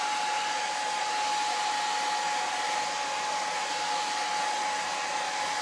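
A hair dryer blows a steady, loud, unbroken stream of air to dry paint on a carved wooden craft heart, close by and alone with no voices.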